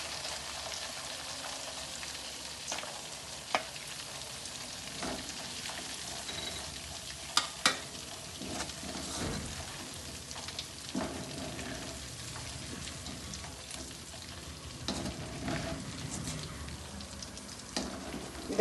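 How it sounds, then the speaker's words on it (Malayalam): Chicken frying in oil in a pan, a steady crackling sizzle throughout with occasional louder pops and spits, close and continuous. "അങ്ങനെ നമ്മളെ ചിക്കൻ നന്നായി പൊരിഞ്ഞ് വന്നിട്ടുണ്ട്."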